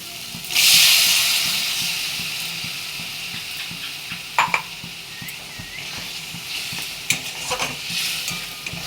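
Chopped tomatoes drop into hot oil with fried spices in a pan for a cabbage and fish-head curry, setting off a loud burst of sizzling that settles into steady frying hiss, broken by occasional stirring scrapes and clinks.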